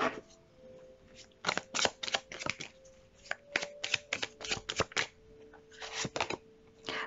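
Tarot cards are shuffled close by in quick bursts of riffling and flicking, with short pauses between rounds and no talking.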